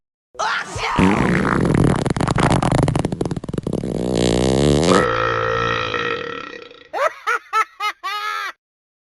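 A long, loud, wet fart rumbles and sputters for several seconds, changes tone midway, then ends in a few short squeaky bursts.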